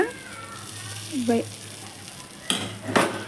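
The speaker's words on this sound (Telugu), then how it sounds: "ఒక గరిటి ఈ పిండి వేసుకొని పల్చగా అట్టు వేసుకోవాలండి పెసరట్టు దాని మీద" Moong dal batter for pesarattu is ladled onto a hot pan and spread thin, giving a soft sizzle. Two sharp scraping clinks of the ladle land near the end, and a faint voice and tonal sounds come through in the background.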